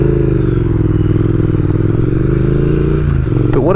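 A high-torque twin-cylinder motorcycle engine runs close by, giving a loud, continuous, throbbing pulse at a steady idle, with a short metallic clatter near the end.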